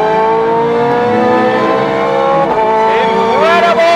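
A Ferrari 430 Scuderia's mid-mounted V8 screams loudly and continuously at high revs, pitch climbing through the gears with brief dips at each shift, very close and intense.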